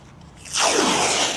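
A can of spray foam hisses as it fills a PVC pipe while a giant Halloween spider prop is being built; the steady, loud rushing spray starts abruptly about halfway through and continues alone.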